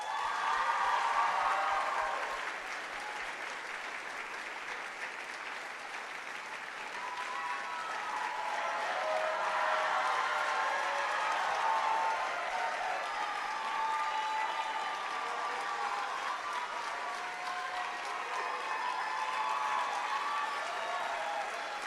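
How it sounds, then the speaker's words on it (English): Sustained audience applause at a TEDx youth event for student speakers, dense clapping from a large crowd that holds steady for over twenty seconds, moderately distant. "Let's just give one more round of applause for everyone who made this night possible."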